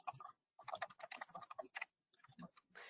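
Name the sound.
typing an address on a computer keyboard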